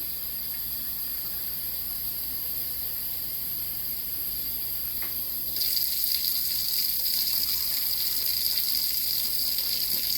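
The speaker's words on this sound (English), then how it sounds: "I'm going to add a little bit more water to that" Water runs into a pot of neck bones on a kitchen stove, a steady gushing hiss that jumps louder partway through and continues without a break.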